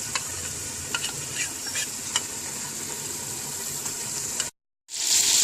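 A yogurt masala for chicken with potato and capsicum sizzles in a pan under a constant hiss, with light scraping taps of stirring, then cuts to brief silence before the hiss resumes.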